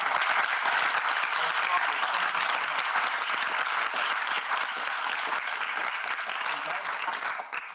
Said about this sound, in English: perhaps a final round of applause for all of the critics and guests who joined us.